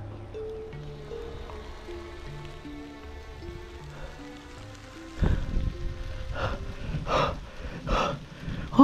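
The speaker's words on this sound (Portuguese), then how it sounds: "Olha a chuva engrossando." Steady rainfall that swells partway through into a heavier downpour, with louder splashing bursts and broadband wash in the second half.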